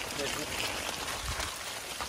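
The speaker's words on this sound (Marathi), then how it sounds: "पाणी चालूच आहे." At night after rain, during outdoor crab hunting, water runs in a constant broad rush with rain falling, and people talk quietly over it.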